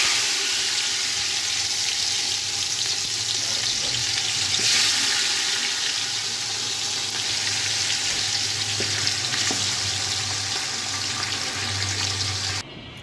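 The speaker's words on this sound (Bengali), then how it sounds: "মশলাটা ভেজে নিয়েছি, এখন আমি এই মাংসগুলো দিয়ে দিব" Marinated beef hits hot fried spices in a pan and sets off a loud, steady sizzle that continues close up for the whole stretch, with a few faint stirring knocks and no talking.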